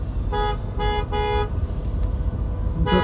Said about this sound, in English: People fucking honking left and right.